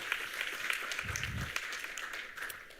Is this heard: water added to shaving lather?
no